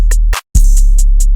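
Percussion hits in a hip-hop beat, a deep sustained bass-heavy hit under crisp high ticks, a short gap, then another long low hit with a rhythmic run of bright clicks, loud and close with no voices.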